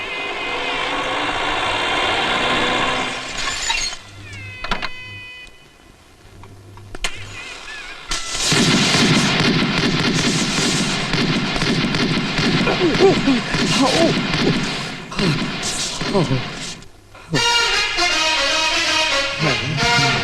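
Sharp bangs of a gunfire salute welcoming an arrival burst out over a loud, noisy crowd scene, followed by a continuous roar of voices and commotion.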